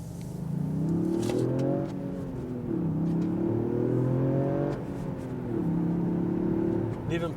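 A Toyota Yaris GR engine revs hard on snow and ice, rising and falling in long sustained pulls with brief dips between them, loud and close.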